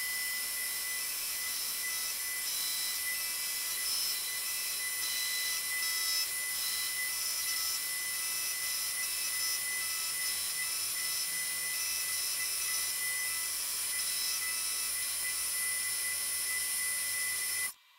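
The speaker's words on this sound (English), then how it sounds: "I'm going to machine the top half of that flat" Milling machine cutting the top of a motorcycle arm rest part flat in a vise, a steady high-pitched whine with constant grinding hiss lasting throughout, then stopping abruptly at the end.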